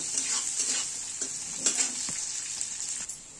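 Onions and spices fry in a kadai for a pointed gourd paste dish, giving a constant bright sizzle punctuated by the scrape and clack of a spoon stirring, with no one talking.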